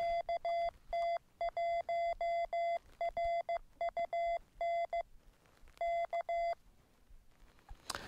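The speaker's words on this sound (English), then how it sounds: "That sound actually was Morse code or CW." Morse code CW identification beeps from a Yaesu VX-6R handheld radio: crisp, steady tone bursts of dits and dahs in several rhythmic groups with short pauses between, clear and alone over faint background hiss.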